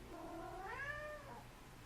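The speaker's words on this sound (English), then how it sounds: "being interrupted by them meowing" Pet cat in its cage giving a single soft, drawn-out meow, faint and slightly distant against quiet room noise.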